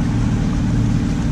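A sailboat's engine drones loud and steady while motoring along the coast, a dense low rumble with continuous broadband noise above it and no voices.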